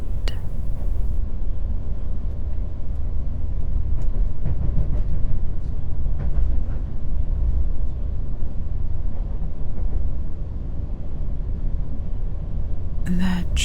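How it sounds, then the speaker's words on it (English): A low, continuous rumble of a moving train, steady throughout with occasional faint clicks, while a voice talks over it. "The train moves on."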